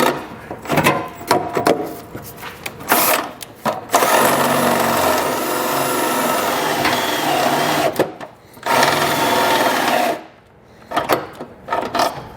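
A power tool grinds out a hole in the metal frame of a 2020 Nissan Rogue Sport, a steady high-pitched whine running in several loud bursts of a few seconds each with brief pauses between.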